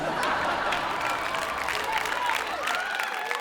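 Audience applause at a stand-up comedy show, a dense, steady wash of clapping from a crowd with some voices mixed in.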